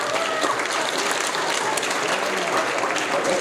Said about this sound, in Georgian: შენ მალაფანყურლებმა ეხლა როგორი ტაში დაგიკრა